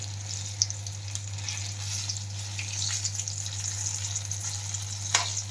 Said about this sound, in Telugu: వీటిని ఇట్లా ఫ్రై చేసుకోవాలి మంచిగా